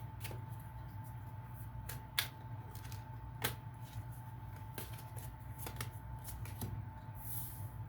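Tarot cards are shuffled close by in a quiet room, with soft rhythmic riffling and a few sharper snaps as cards slap together, under a low steady hum.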